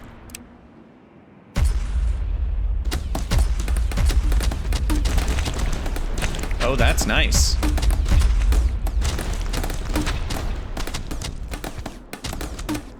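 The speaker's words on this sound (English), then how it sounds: "let's try this cannon thing" Ship cannon firing in the strategy wave-defense game From Glory To Goo, a dense barrage of loud, rapid booming shots and thuds running continuously after a quiet start, with a brief spoken remark.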